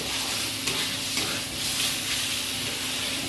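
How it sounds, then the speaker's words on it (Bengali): Steady close sizzle of a pan sauté with salt and turmeric, stirred in oil, a continuous frying hiss with faint scraping strokes and no voices. "অল্প একটু লবণ, অল্প একটু হলুদ দিলাম। ভালো করে এটা কষাবো, আর একটু কষবে।"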